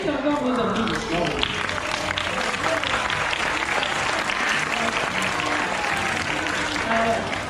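A live show audience applauds after a performer's seal imitation, a steady dense wash of clapping that holds at full strength for the whole stretch with no talk.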